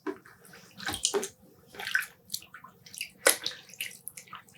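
Superwash merino fingering weight yarn is pressed down into water in a tub, giving soft, irregular splashes, squelches and drips, close and fairly quiet, with no talking.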